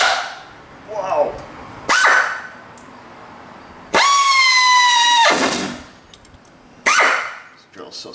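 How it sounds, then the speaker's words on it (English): High-speed drill bit boring out stripped threads, heard in short bursts: a brief whine, then a longer sustained high-pitched drilling tone, then another short burst, with quiet gaps and some background noise between. "This drill bit is pretty high speed, so we have to be real careful."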